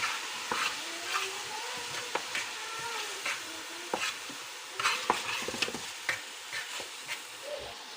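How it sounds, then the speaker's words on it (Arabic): Chicken and onion stir-fry in a hot pan as a spoon scrapes and stirs them, giving a steady sizzle broken by repeated clinks and scrapes, close and moderately loud, with no talking. "هسه بعد ما انحمس عندي الدجاج اخلي البصل"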